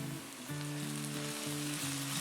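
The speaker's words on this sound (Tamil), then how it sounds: "இப்போ வந்து இஞ்சி பூண்டு விழுது சேர்க்குறேன். அதுக்கப்புறம் பச்சை மிளகாய்." Ginger garlic paste and green chilies hiss and sizzle as they fry with softened onions in a pan, a steady close crackle with faint tonal hum running underneath.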